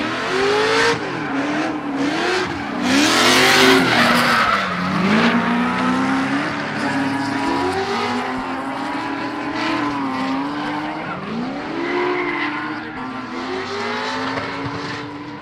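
Race cars battle on a track, a gray E36 BMW leading a blue Lexus IS300, with loud engines revving up and down through the gears, tires squealing and cars sweeping past nearby.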